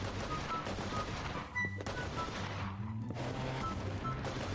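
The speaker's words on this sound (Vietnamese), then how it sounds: "Cái gì mà bắn đùng đùng đùng đùng ghê vậy?" Rapid bursts of gunfire in a Minecraft zombie apocalypse game, dense overlapping shots rattling almost continuously over a constant, loud mix of game noise.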